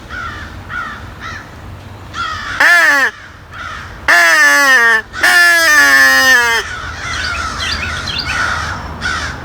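Crows caw loudly and repeatedly in response to a Haydel's crow call, with harsh, ragged calls in a few long, close bursts amid fainter scattered caws outdoors.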